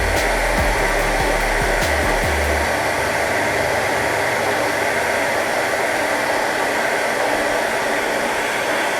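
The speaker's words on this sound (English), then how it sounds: "and turn your hair dryer off" A hair dryer blows continuously with a loud, even whooshing hiss, used to heat an iPhone 6s screen for removal, a few low bumps of handling near the start.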